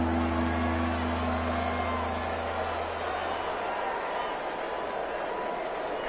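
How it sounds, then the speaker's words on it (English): A stadium crowd at an American football game roars in a steady, loud, broad wash of cheering, with a low hum fading early on. "The crowd getting into it as we come up on a big 3rd down"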